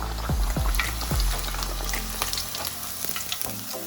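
Breaded chicken katsu fries in hot oil with a loud, close, continuous sizzle, punctuated early by a few thumps and clatters as pieces are flipped, then settling into a steady crackling hiss.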